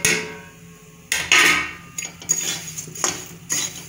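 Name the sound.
spiced puffed rice (murmura) being stirred in a pan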